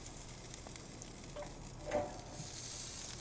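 Mackerel sizzling in a frying pan: a quiet, steady crackle and hiss of hot oil, close by, with a faint clink partway through.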